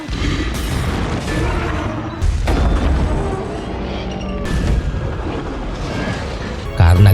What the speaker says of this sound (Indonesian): Hal itu pun membuat truk minyak yang lain meledak.